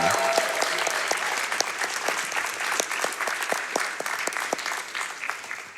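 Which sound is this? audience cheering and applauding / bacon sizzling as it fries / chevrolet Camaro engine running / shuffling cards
audience cheering and applauding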